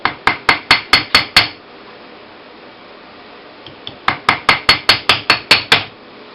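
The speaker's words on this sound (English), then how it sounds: "I'm going to be hammering on the surface that's the final surface, and I don't want to damage it" A rawhide mallet beats a metal ring into shape for a moon-and-star design, making two runs of crisp, evenly spaced close taps, about seven and then nine, with a quiet pause between them.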